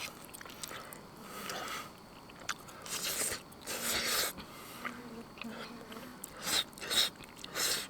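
Someone eats cheesy gravy poutine stew at a bug-season canoe campsite, close soft chewing and wet bites in irregular bursts, with brief muttering between mouthfuls.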